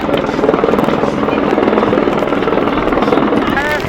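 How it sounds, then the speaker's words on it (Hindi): A helicopter arrives at a helipad after fresh snowfall in the Uttarakhand mountains, its rotor beating loud and steady in a continuous chopping drone with wind buffeting the microphone. "तो देखो हेलीकॉप्टर आया है अभी।"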